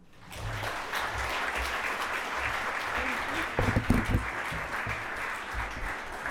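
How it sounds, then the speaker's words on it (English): At a writers' festival launch, a festival audience breaks into loud, sustained applause that swells quickly after a quiet start and keeps going, with a few louder bumps and scattered cheers midway. "Hey, yeah, good clapping."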